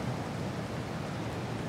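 Steady rainfall hisses as a constant, even wash of noise, fairly close and unbroken for the short moment.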